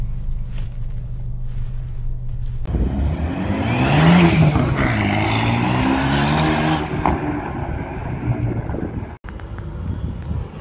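A Renault Megane 2 RS Stage 1 idles low and then revs hard while driving, with a loud, rising and falling engine and exhaust roar full of shifting tones and wind buffeting, before easing back down.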